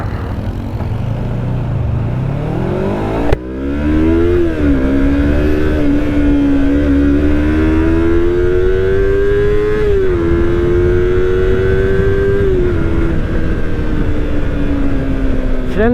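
A Yamaha R25 250cc motorcycle accelerates while being ridden, loud and close, with a sharp gear change followed by a long climbing engine note and a further shift, no voices.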